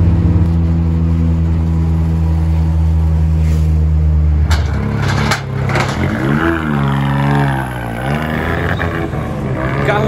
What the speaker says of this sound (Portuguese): Carro sendo carregado aqui já na Promáquina